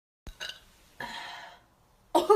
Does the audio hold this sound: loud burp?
yes